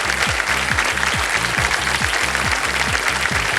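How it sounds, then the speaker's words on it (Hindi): A game-show studio audience breaks into sustained applause, a dense wash of many hands clapping at even loudness over a steady rhythmic musical beat underneath. "ताली बजी।"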